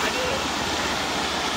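Fast-flowing stream water rushes in a loud, steady, dense roar close by on a fishing outing in Konkan, with no break across the short stretch.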